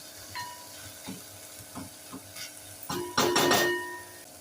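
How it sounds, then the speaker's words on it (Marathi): Prawns and rice stir-fried in a pan for prawn fried rice, with scattered scrapes and stirring clatter over a low sizzle, building to a louder burst of frying near the end; no talking. "छान परतून घेऊया."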